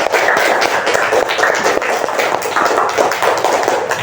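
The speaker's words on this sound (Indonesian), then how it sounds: "Tepuk tangan untuk semua yang bertanya dan bisa menjawab" Classroom applause from a group of schoolchildren, a dense, steady patter of many hands clapping close by for about four seconds, with no pause and no voices over it.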